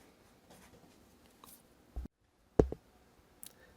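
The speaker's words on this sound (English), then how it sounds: "So here in our keywords, we would write Zalek." Pen writing a keyword on paper: a soft faint scratchy stroke, then a couple of short louder taps and scrapes near the end, close up in a quiet room.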